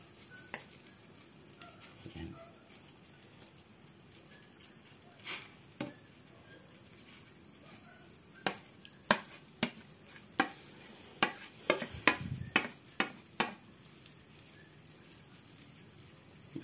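Laing, taro leaves with coconut milk, added bit by bit into a pan, giving a steady low sizzle with scattered sharp clinks and stirring scrapes that cluster toward the end.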